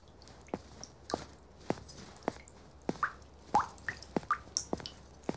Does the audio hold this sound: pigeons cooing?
no